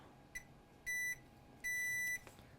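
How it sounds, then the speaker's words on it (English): Two sustained electronic beeps, each about a quarter second long, from a multimeter in continuity mode probing a shorted diode on an HP Spectre x360 15-inch laptop motherboard. They sound clear and close, with a faint click before each. "Let's test the diode."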